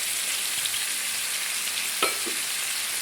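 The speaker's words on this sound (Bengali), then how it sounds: "চিকেনটা দেখুন হালকা ভাজা হয়ে গেছে" Chicken pieces frying in a hot pan, a steady close sizzle and hiss with one short scrape of a utensil against the pan partway through, no voices.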